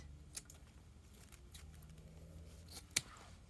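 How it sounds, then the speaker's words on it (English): Scissors make two sharp, quick snips as they trim the ends of wired ribbon on a snowman holiday swag, the cuts spaced a few seconds apart over quiet room tone. "We're going to trim these."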